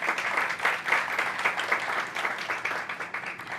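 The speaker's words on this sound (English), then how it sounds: "a round of applause now for the chairman of the board, the Honorable Chairman Lincoln Diaz-Balart" Brief burst of steady applause from a symposium audience on trade in the Americas, greeting the chairman of the board with moderately loud, evenly textured clapping.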